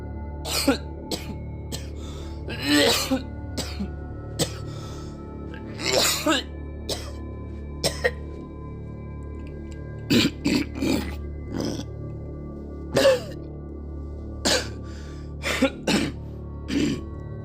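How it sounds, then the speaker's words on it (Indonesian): Several short coughs and throat-clearing grunts come in scattered bursts, close and fairly loud against a quiet background. "aku pun terbangun karena mendengar suara batuk dari ayahku"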